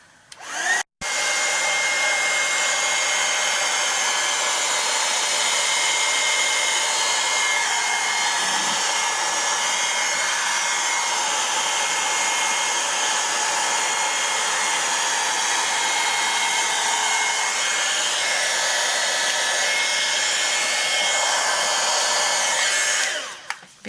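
A hair dryer blows on a watercolor painting, a loud steady whooshing drone running nearly the whole time after a click on, then switching off at the end.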